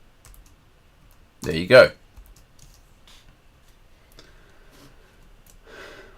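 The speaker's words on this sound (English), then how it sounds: "If I can just type." Fingers tapping on a computer keyboard, a quick burst of clicks followed by sparse scattered keystrokes, with a brief spoken phrase in between.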